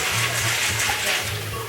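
Beans rinsed under a running tap, a steady close rush of water with no pauses and no talking.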